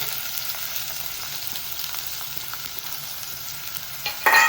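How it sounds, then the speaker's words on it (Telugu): Raw onion frying in a pan for a mixed vegetable stew, a steady hissing sizzle held close and even, with a brief clatter of stirring at the very end and no talk. "ఉల్లిపాయ పచ్చిగా వేసేసాను."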